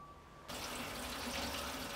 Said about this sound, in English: Pour fuel into the heater tank until the gauge reads full.